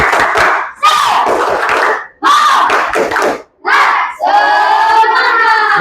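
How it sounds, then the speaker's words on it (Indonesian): A primary school class performs a rhythmic spirit clap in unison, loud close bursts of hand claps broken by short pauses, with children chanting and shouting along and a final sustained cheer. "Sebelum kelompok 2 maju ke depan, beri dulu tepuk semangat."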